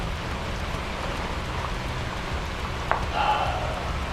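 Steady rain falls outdoors in Thailand, a continuous broadband hiss of drops spread evenly throughout, with a brief sharp knock near the end and no talking.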